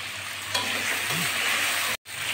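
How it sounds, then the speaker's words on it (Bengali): Potato pieces seasoned with salt and turmeric fry in hot oil, a continuous close sizzle with a brief stir of the spatula partway through and a momentary dropout near the end. "এবার আমি আলুগুলো ভেজে নেবো একটুখানি।"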